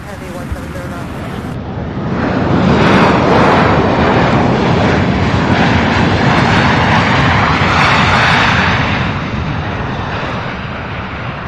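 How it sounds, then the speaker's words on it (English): A United airliner, flight 3654 from Chicago O'Hare, arrives at Louisville International; after a quieter start, a loud, close jet roar swells and holds, then eases slightly toward the end. "So this United 3654 arriving from Chicago O'Hare."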